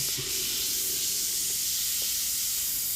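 Airbrush being cleaned out by spraying, a steady continuous airy hiss throughout, close and fairly loud with no speech.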